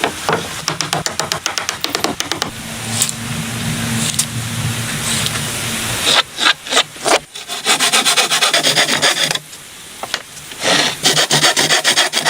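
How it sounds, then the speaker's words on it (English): Thin, small pieces of wood cut from planks for shingling a cabin roof, with repeated rasping, rubbing strokes in close bursts and a few brief pauses. "He cut many thin, small pieces of wood from planks"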